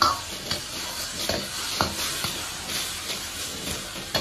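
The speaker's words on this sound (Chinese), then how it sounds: "再煎上1分钟，啊，边煎边转，翻一下勺。" Tofu pan-frying in a wok with the pan being swirled and flipped: a soft continuous sizzle broken by repeated scraping and stirring knocks at an uneven rhythm, close up, with no speech.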